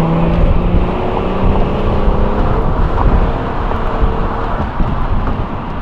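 An all-wheel-drive Audi TT accelerating hard, a loud continuous engine roar heard from inside the car, holding steady across the whole stretch with no talking.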